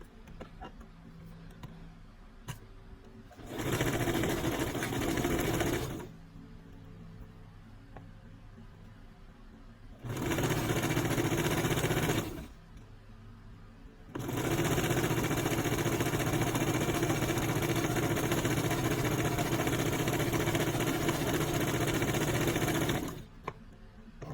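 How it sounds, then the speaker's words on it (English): A Brother sewing machine stitches a stretch fabric beanie in three bursts, a short run, another short run, then a long steady stretch of fast mechanical whirring, with quiet pauses between, close up and without talk. "And then I'm just going to proceed with sewing."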